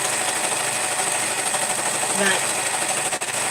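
A sewing machine runs at a steady mechanical hum with a fine rapid stitching buzz throughout, while a person speaks briefly over it.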